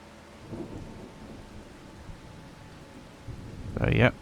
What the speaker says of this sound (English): It is raining now, as you can tell.